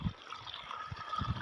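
Water rushing from a broken pipe outdoors, a continuous splashing flow with gurgling bursts, fairly close and steady throughout.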